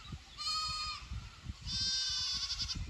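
Goats in a herd bleat in two long, quavering calls separated by a short pause, heard fairly close over low rustling and movement noise.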